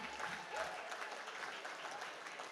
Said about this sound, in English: How about one more round of applause for our friends from the Yakima Nation?